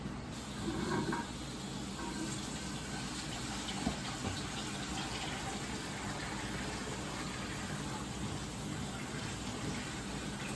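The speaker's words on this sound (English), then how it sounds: "All right, let's add some water." Water pouring steadily into a 180 gallon aquarium, a constant soft gushing hiss that stays even and moderately distant throughout, with a brief bump of handling noise near the start.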